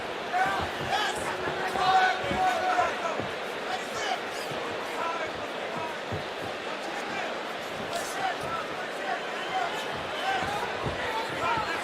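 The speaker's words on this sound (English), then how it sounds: "You hear the crowd getting a little restless." A restless crowd at a Bellator MMA fight involving Benson Henderson murmurs and stirs through the arena at a low, steady level, with scattered shouts and thuds under an ongoing commentator's voice.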